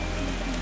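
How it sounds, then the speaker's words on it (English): Rain falls steadily on a trail lined with trees, a dense continuous patter of drops close by with no voices over it. "got a little rain coming down"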